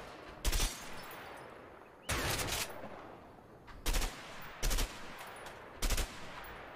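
Gunfire from a three-round burst weapon in the video game A Way Out, five short loud bursts spaced a second or so apart over a quiet background.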